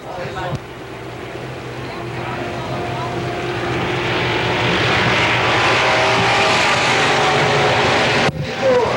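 Late model race cars lap Pennsylvania Motor Speedway near Pittsburgh at a 1993 Fall Classic event, a roaring engine that swells louder as it approaches and holds a loud sustained drone, with a voice announcing over it.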